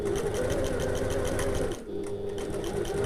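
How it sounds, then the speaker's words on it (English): Sewing machine stitching a tote bag runs steadily at close range with a brief slowdown partway through, then resumes its fast, even whirring, with no talking. "then carry on sewing"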